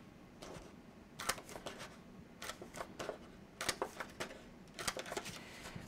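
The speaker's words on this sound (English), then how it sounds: "And then I'm gonna punch around those with my 3/4 inch hole punch." A 3/4 inch hand hole punch snaps through paper in quick, crisp clicks, coming in small irregular clusters at close range in a quiet room with no talk.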